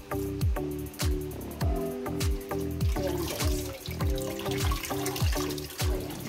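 Tap water runs and splashes over salad greens being rinsed in a sink, with repeated rhythmic splashes and drips as the leaves are handled, close and fairly quiet.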